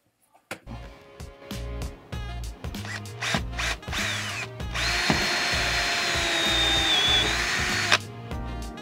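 A power drill drives screws into the corner of a SuperFlex rub rail on a project boat, with short bursts of whirring and a longer steady run near the end, close and loud with no talking.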